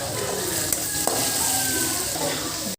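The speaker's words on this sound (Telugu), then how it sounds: "ఆయిల్లో ఫ్రై చేసుకోవాలి" Curry leaves and onions frying in hot oil for a prawn curry, a loud, dense, continuous sizzle up close, with a couple of brief metallic taps from stirring.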